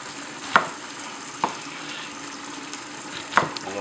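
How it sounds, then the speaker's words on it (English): Spinach and purple onion sautéing in house-made oil, a soft, even sizzle under three sharp clinks or taps from utensils against the pan, no voices. "the spinach that's been sauteing for the last 4 or 5 minutes"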